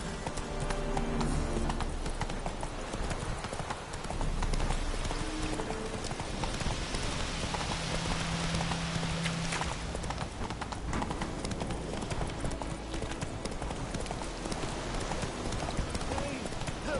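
Roach the horse trotting and galloping in The Witcher 3, steady rhythmic hoofbeats running throughout under a constant backdrop of rain and wind, with brief voice lines spoken over it.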